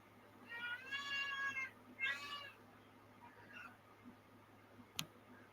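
Kittens meow faintly in two short, wavering cries close together, followed by quiet background noise and a single sharp click near the end.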